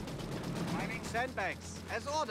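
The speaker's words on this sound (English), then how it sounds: "Six pounder gets a shot off" A six-pounder anti-tank gun fires in the Company of Heroes 3 strategy game, a single muffled report with rumbling battle noise beneath a voice talking over it.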